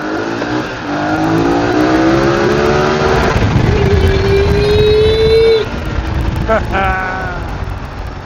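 A car engine revs hard inside a tunnel, its rising and falling whine echoing loudly off the walls for several seconds while people talk over it.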